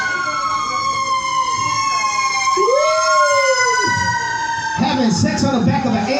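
An ambulance siren wails loudly and close, its pitch swooping up and falling back over steady high tones, before a rough, noisy burst takes over near the end.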